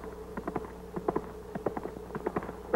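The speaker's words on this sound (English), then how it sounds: "that's the biggest horse I ever seen in my life" Horse hooves clip-clopping in a 1942 film scene, an uneven run of hollow knocks that is fairly near and moderate in level, with no talking over it.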